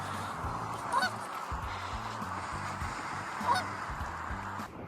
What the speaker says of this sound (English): We've still got Geese the Geezer.